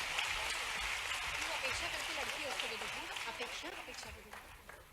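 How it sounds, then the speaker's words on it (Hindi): A large audience at a Madhya Pradesh government ceremony for the Ladli Laxmi scheme claps steadily, a dense wash of applause that slowly fades toward the end. "जोरदार तालियां बजाइए।"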